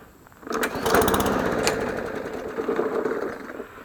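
A Briggs & Stratton 500E series lawn mower engine on a trashed mower sputters into life, runs roughly for a few seconds at a close, loud level, and then fades as it begins dying out.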